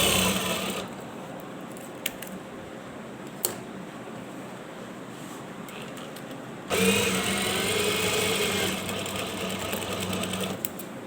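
A sewing machine runs alone, stitching a shirt cuff 1.5 cm from the edge after it has been turned inside out, with a steady mechanical whir that starts, stops with a few clicks, then resumes louder and busier in the second half.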